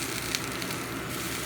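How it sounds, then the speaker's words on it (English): Bratwursts searing on a griddle give a dense, even sizzle, a steady close hiss with no voices over it. "We're going to put them on our griddle. And we're just going to sear these bad boys"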